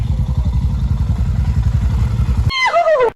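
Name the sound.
motorcycles arriving on a road trip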